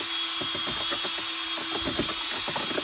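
A power drill turning a mixing paddle through clay and sand, a steady motor whine held at low speed with rhythmic knocking and scraping from the paddle, close and loud.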